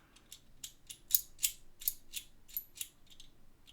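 Pieces of a Hanayama Nutcase metal puzzle click and scrape against each other in a quick run of about ten small, close, faint metallic ticks as they are slid and pushed together.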